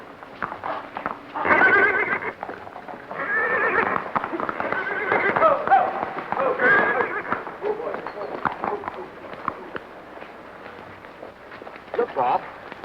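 Horse in an old Western setting, with several loud neighs and whinnies over hoofbeats, close by, and people talking in between.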